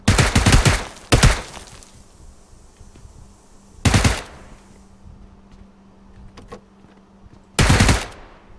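Gunfire in the PUBG Lite video game: four loud, close bursts of automatic fire, two in quick succession at the start, then one alone and another near the end, with quiet gaps between.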